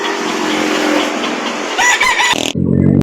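A rooster, a banded gamecock at a Philippine fowl market, crows loudly and close in one long call, with motorcycle and traffic noise running underneath.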